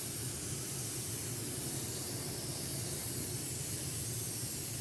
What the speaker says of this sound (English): I'm going to just spray out till I see red.